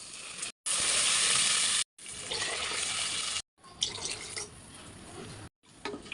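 Four cups of water pour steadily into a pot of rice for biryani in a few separate bursts, a loud rushing splash with brief silent gaps between pours.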